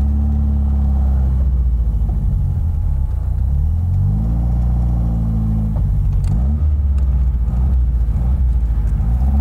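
A 1981 Toyota Starlet with a TRD race engine, rear-wheel drive and manual transmission, runs in a steady loud rumble from inside the car, its engine pitch rising and falling as it drives.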